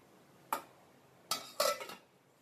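Three light metallic clinks, one then a pair close together, as a lid is set onto a pot of simmering curry, in a quiet room.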